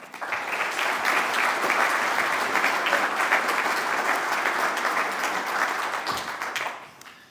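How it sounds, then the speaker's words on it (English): Audience applause greeting the mayor of Sioux Falls at a news conference, a dense, steady wash of many hands clapping that holds for about seven seconds before fading at the end. "please join me in welcoming the mayor of the great city of Sioux Falls, Mayor Paul Tanhagen."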